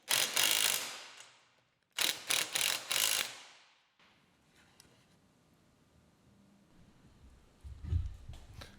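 Ratchet tightening mirror mount bolts on a Polaris RZR side-by-side, heard as two close, loud bursts of rapid clicking, the second split into several short pulls, followed by quieter handling noise and a low thump near the end.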